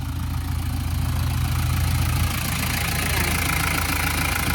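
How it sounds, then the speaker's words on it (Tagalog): A 14-foot Japanese surplus chiller van truck's engine idles steadily and close, a loud low rumble with a faint knock running alone without a pause. "Ayan, engine niya."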